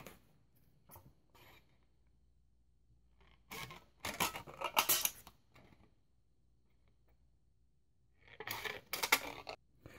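Thin aluminum soda can sheet being cut into strips about two fingers wide, heard as two short bursts of crisp snipping and scraping metal, close by, separated by near silence.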